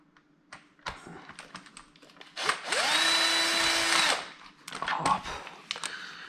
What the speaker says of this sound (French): Voyez le tournevis, ça sera plus rapide.